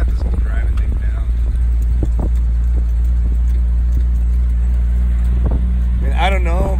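A Jeep climbing a hill, its engine a loud, steady low rumble throughout with wind buffeting the microphone, while people talk over it.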